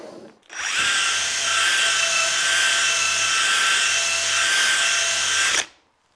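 A gold nylon rotary brush spins against a waxed surface, a loud steady high-pitched whir that starts abruptly, holds for about five seconds and then cuts off.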